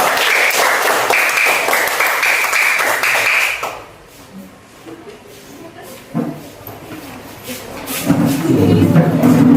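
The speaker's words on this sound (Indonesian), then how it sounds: "tepuk tangan dulu untuk kelompok 2" Students applaud a classmate group in an Indonesian classroom, a dense burst of clapping for about four seconds that stops abruptly, followed by quieter room noise and talk.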